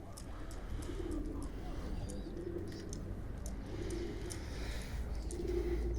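Racing pigeons coo in repeated low, throaty phrases, a few at a time, over a steady background hum with faint chirps above.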